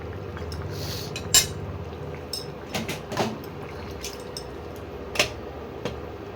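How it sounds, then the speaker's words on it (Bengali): Metal pot lid set onto a pot of chicken curry, with a few sharp clinks and clatters of cookware spaced over several seconds against a low kitchen background. "এবার আমি ঢাকা দিয়ে দিচ্ছি"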